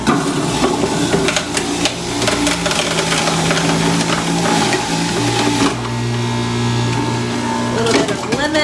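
A juicer grinds carrots with a steady, gritty whirring and crunching that runs the whole time, while a person talks over it.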